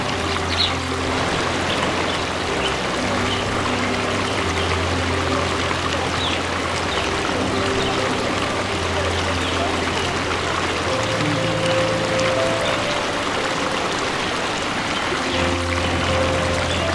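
A waterfall at Badlapur, set in a scenic natural spot, pours in a steady loud rush of splashing water that fills the whole stretch, with no voices over it.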